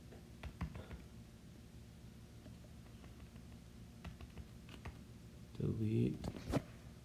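Values get keyed in on a computer keyboard in a spreadsheet, soft scattered taps and clicks close by, with a person speaking over part of it.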